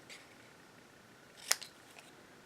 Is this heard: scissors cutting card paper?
yes